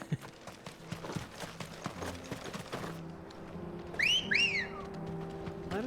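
A character in the video game Final Fantasy XVI gives a two-note rising whistle that stands out clearly over steady horse hooves clip-clopping and game ambience, with no talk.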